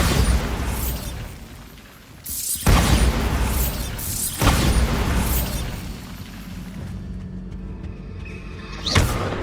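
Bombarda blasting spell explosions in Hogwarts Legacy boom loudly three times, at the start, midway and at the end, each with a rumbling tail between bursts.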